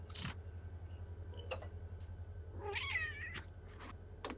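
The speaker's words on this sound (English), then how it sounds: "Your cat is making sound." A house cat meowing several times in short complaining calls, fairly quiet and close, over a steady low electrical hum with a few faint clicks.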